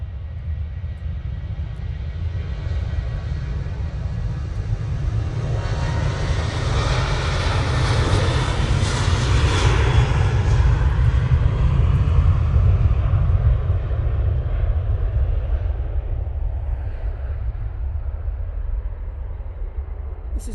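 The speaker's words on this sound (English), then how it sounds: "Ryanair coming in, and at the same time, we've got Ryanair going out." Ryanair jets land and take off at Manchester Airport, a deep engine roar that swells gradually to a loud peak midway, then slowly recedes while staying steady underneath.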